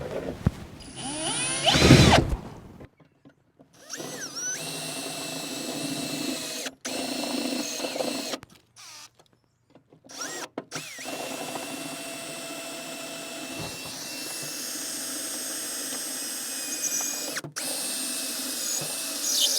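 Power drill boring a pilot hole from underneath a vehicle, heard in bursts of loud whirring with pauses between, close by and alone without talk.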